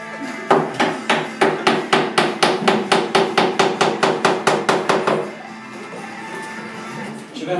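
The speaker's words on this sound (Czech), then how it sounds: "Počkej, kladivo." A hammer strikes steadily in a fast, even run of about twenty loud, close blows during work on a building site, then stops and leaves a quieter murmur of background noise.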